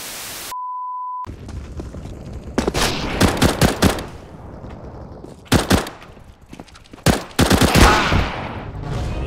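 Video game gunfire comes in several loud, rapid bursts of automatic shots separated by short pauses, after a brief electronic beep at the start.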